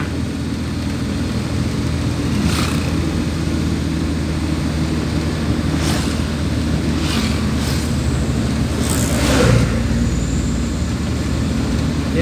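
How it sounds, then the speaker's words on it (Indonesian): Vehicles, mostly trucks, pass along the road between Banjarmasin and Palangkaraya during the May 2021 travel ban, a steady wind-blown roadside rumble with several brief swells as each one goes by. "Jadi kita lihat rata-rata kendaraan yang berasal dari arah Banjarmasin menuju ke Palangkaraya dari tadi umumnya adalah truk."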